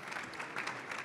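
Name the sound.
audience applause at a conference round table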